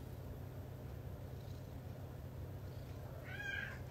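A cat gives one short meow late in the clip, fairly faint against a steady low room hum, heard indoors with no voices.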